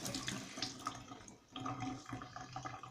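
Red herring fish washed under running tap water, a soft, close splashing and trickling with irregular bursts and a brief pause midway.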